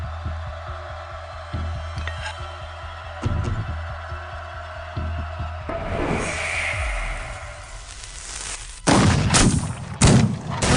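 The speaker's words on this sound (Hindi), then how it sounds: "तोप चलाओ।" Cannon fire from a naval battle in a movie: a run of rhythmic thumping blasts, then a rising whoosh and several loud, close booming explosions near the end.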